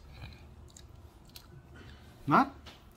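Someone chewing a bite of beef tamale with coarse cornmeal masa, soft close mouth sounds ending in one brief louder crunching bite, with faint talk around it.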